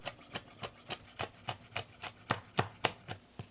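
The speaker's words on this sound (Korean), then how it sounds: "고추 한 개를 반 잘라 씨와 심지를 제거하고 잘게 썰어주세요" A knife chops a deseeded chili pepper finely on a cutting board: about fourteen crisp, evenly spaced strokes, close and clear, with no voices.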